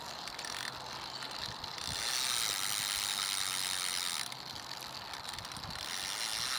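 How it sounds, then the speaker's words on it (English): Bicycle wheel spun by hand on a service check, giving a continuous faint rapid clicking from the freewheel pawls, slightly louder in two stretches. "I'm just going to quickly check how the wheel spins."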